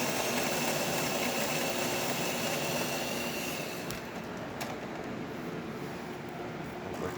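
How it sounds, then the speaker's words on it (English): A Jura ENA Micro 9 espresso machine, fresh from a full service and tune-up, pulls a shot with a steady mechanical hum and drone, loud and continuous at first, then easing slightly before a couple of sharp clicks near the end. "Today we're testing this beautiful Jura ENA Micro 9 and let's go ahead and pull a shot."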